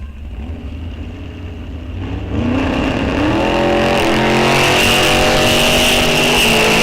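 Drag racing cars launch side by side off the line at Rock Falls Raceway during a bracket-series fun race, engines roaring up loud and close and holding a sustained, rising roar.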